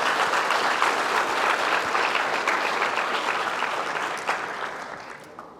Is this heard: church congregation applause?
yes